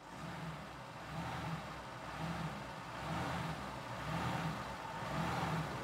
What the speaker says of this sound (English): What if I rev it?